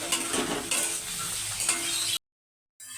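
Boiled banana flower stirred in a pan with chopped tomato, turmeric and green chilli: a close, continuous scraping and soft sizzle with a few louder stir strokes, then a brief silent gap before the sound resumes.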